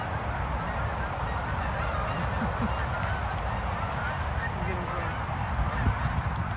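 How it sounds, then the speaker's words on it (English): Canada geese honking as they fly off a pond, repeated honks heard fairly faint and distant over a steady outdoor background hiss. "All the Canadian geese were in the pond, and now they are flying over."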